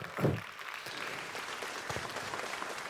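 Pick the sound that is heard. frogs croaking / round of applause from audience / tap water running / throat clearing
round of applause from audience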